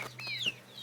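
A backyard chicken raised for 4-H gives a brief, soft cluck nearby, with a faint steady hum underneath.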